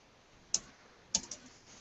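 Fingers typing a short word on a computer keyboard: three sharp, separate key clicks, close and fairly crisp, over a quiet room hum with no voice.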